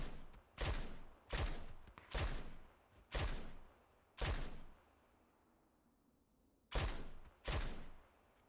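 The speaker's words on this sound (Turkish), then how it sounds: "Bana sıkıyorlar ya." Gunshots in the PUBG Mobile video game: seven sharp, booming reports spaced about a second apart, each with a decaying tail, a short pause before the last two, no talk heard.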